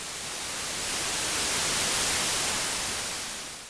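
Broadband white noise pours from an mki x es.EDU DIY Noise/S&H synthesizer module, a flat steady hiss that swells slightly louder in the middle and eases off at the end.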